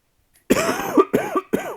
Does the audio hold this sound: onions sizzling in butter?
no